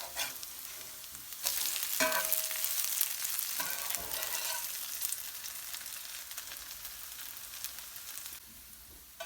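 Potato pancakes frying in oil in a pan, a steady crackling sizzle that flares louder as they are flipped, close and with no talk.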